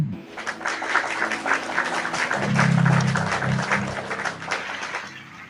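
Church congregation applauding together, a steady dense wash of clapping lasting several seconds with a low murmur of voices underneath.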